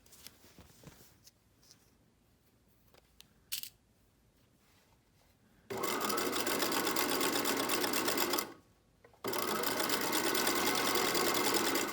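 A sewing machine zigzag-stitches binding onto a swimsuit, first quiet handling and a brief click, then a loud steady whirring run of stitching, a short pause, and a second continuous burst close up.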